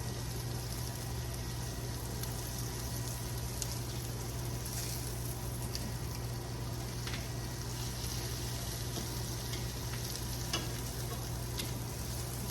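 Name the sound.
turkey burgers frying on top of onions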